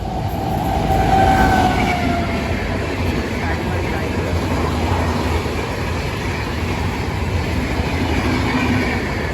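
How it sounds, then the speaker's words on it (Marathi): A train rumbles past up close beside rice paddy fields near Boisar, Maharashtra, a loud continuous roar with rhythmic rattling of wheels on the track. "इकडे जाते ट्रेन"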